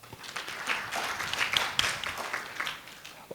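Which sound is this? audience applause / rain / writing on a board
audience applause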